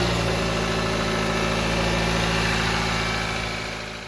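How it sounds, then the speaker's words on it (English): A repaired car engine idles steadily after a part replacement fixed random stalling, a close, continuous low hum with constant harmonics and slight vibration, loud and alone with no talk, easing slightly at the end. "Now let's turn on the vehicle and see how it sounds."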